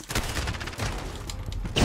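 Rapid automatic gunfire rattles steadily in a video game 3v3 gunfight, a dense continuous volley close and fairly loud, swelling slightly at the end.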